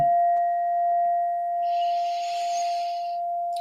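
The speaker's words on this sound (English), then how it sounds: "And then I also use this brass bowl, beautiful Indian brass bowl." A beautiful Indian brass singing bowl rung once, giving a pure sustained ringing tone with a fainter overtone that hums and wavers gently while holding steady throughout, close and alone.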